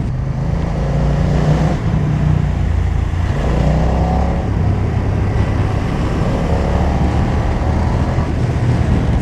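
BMW F900R A2-restricted twin-cylinder motorcycle, 2020 model, pulling from low revs in sixth gear at about 70, a steady loud engine drone with rising tones and slight shudder throughout, no talk.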